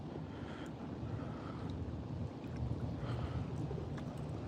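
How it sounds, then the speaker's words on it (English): Steady wind buffeting outdoors, a constant low rumble and hiss with no voices, holding even throughout. "it's really windy out here"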